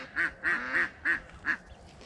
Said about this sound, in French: Le jardin, les canards, les volailles au fond et toutes les poules ici.